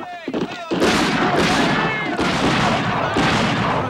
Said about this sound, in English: Looks like they're shooting at each other.